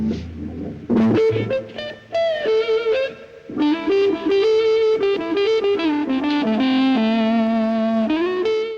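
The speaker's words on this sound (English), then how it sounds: "a kind of whining noise usually described as woman tone" Electric guitar with the tone control rolled right down and the volume full up, a distorted, sustained, vocal-sounding woman tone playing a bending, singing lead line with thick harmonics and no talk.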